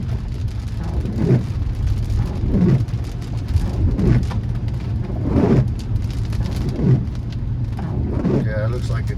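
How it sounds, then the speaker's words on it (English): Heavy rain drums steadily on a car driving along SW 8th Street through West Miami, Little Havana and on toward Brickell and downtown, with a loud continuous wash and rhythmic swishes repeating about every second and a half. "now the rain is picking up."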